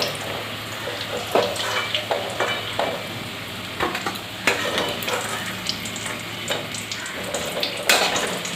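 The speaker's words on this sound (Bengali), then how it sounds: "এই পেঁয়াজটা তেলের মধ্যে দেবো এখন, আলুটা তুলে তেলের মধ্যে দেবো" Potatoes frying in hot oil in a home kitchen, a steady sizzling hiss with scattered sharper crackles and stirring clatters throughout, close and moderately loud with no talking.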